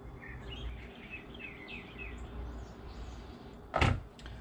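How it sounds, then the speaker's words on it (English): Birds chirp faintly outdoors in the morning, with a run of quick high tweets over soft ambient noise. A brief louder knock or clatter breaks in near the end. "So as the birds are out there chirping this morning"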